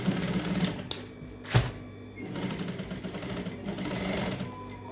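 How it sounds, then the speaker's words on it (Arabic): A sewing machine stitches a sleeve at the shoulder, running in steady mechanical bursts with short stops and a couple of sharp clicks between runs. "بس هعمل فالماتوره بقى كده"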